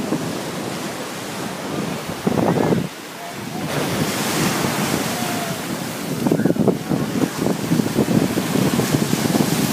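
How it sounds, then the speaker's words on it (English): Ocean waves on Miami Beach washing in with steady roaring surf and gusts of wind buffeting the microphone, loud and close throughout. "I hope you can hear me over the waves."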